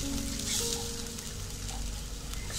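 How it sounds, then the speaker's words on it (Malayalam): Spice powders with Kashmiri chili powder sauté over a low flame, giving a soft, steady sizzle that stays fairly faint and even throughout. "ഇനി നമുക്ക് ഒന്ന് നന്നായി വഴറ്റി കൊടുക്കാം."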